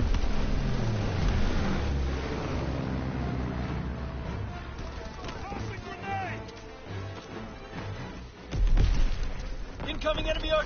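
Enemy artillery strike in Call of Duty WW2 multiplayer: a dense wash of rumbling blasts and crashing debris fills the scene, with a sharper, louder impact near the end amid ongoing battlefield noise and voice callouts.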